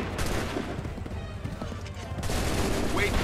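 Musket volley gunfire in Assassin's Creed III, a dense crackling fusillade of many shots layered with shouted commands and battle noise, continuous and loud throughout.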